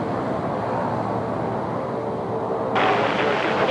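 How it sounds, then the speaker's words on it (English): Steady broad roar of a Jetstar Boeing 787 airliner on final approach into Sydney Airport in wet, rainy weather, heard from the ground, a constant rumble that swells louder and brighter near the end. "Maybe a 787 Jetstar coming in from Kansai."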